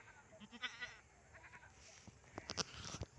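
Pet goats bleat in a yard under a house, several calls: a short bleat near the start, then a louder burst of overlapping bleats toward the end, with faint rustling between.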